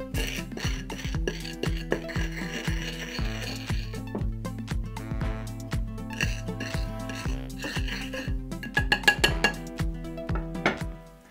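A spoon's back presses and crushes breakfast cereal under a paper towel on a dish, producing close, repeated clinks and gritty scrapes in an irregular rhythm.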